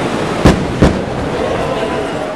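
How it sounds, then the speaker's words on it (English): Two sharp sonic booms from the returning space shuttle Discovery, about a third of a second apart, punch through a loud, steady background roar of wind and crowd noise at a press site. "it still just shakes you when those sonic booms come in"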